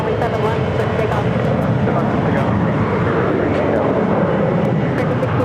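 An airliner takes off from runway 7 left at Phoenix airport, a steady, broad jet roar holding constant throughout, with radio voices talking over it.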